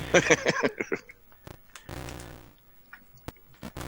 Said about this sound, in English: Sounds like a duck fart.